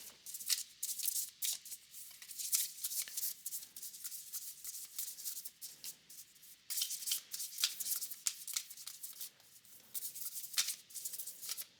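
Someone shuffles a deck of answer cards close by, with quick rustling riffles and soft slaps that come in bursts and then pause briefly, with no voice.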